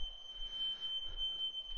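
A smoke alarm, triggered by a smoke machine indoors in a house, sounds a steady high-pitched electronic tone that holds unbroken at moderate level against a quiet background.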